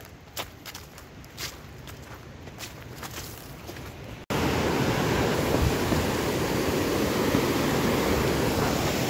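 A stream flows in a broad steady rush that suddenly becomes louder and closer partway through, a continuous noisy wash after a quieter stretch of footsteps and ambient sound, with no speech.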